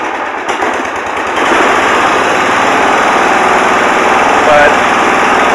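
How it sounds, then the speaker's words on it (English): A hydrostatic riding lawn mower engine runs loud and close with a rapid, rattling chug that steps up in intensity after a moment and holds steady, with a voice talking over it. "There's what we mow with, and that thing runs great."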